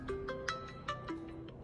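A mobile phone ringtone for an incoming call plays a short, bright melodic pattern of repeated electronic tones, close and moderately loud, with no talking over it.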